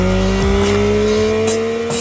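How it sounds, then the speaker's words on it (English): Yamaha MT-09 (2021) motorcycle with its three-cylinder CP3 engine revving loudly and continuously close by, the pitch sliding steadily, with brief sharp high accents near the end. "to let the new CP3 engine roar"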